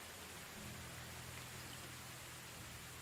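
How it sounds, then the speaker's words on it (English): Rain falling in Medieval Dynasty, a constant even wash of soft hiss with a low hum underneath, steady throughout with no voices. "Can't wait for this day to be over so the rain stops."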